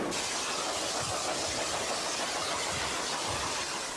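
Steam locomotive 3801, built in 1943, letting out a loud, steady hiss of steam up close, a continuous broad rush with low rumbling beneath, no voices.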